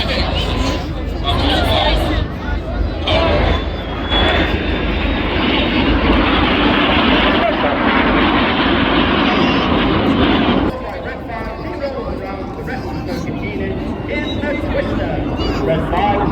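Red Arrows display team jets roaring overhead at the Blackpool airshow in 2025, a loud sustained engine rush that eases off, with a crowd murmuring and an announcer speaking throughout.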